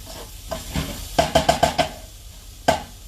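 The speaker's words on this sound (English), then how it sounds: "Give your onion and your garlic a really good stir again." Onion and garlic stirred in a hot pan, a series of quick scraping strokes over a soft sizzle, with a cluster of five rapid stirs and a final one, close and without speech.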